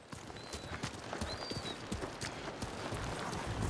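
Horses' hooves clip-clop at a steady pace in the Ghost of Tsushima video game, fairly soft and mixed with outdoor ambience and faint bird calls.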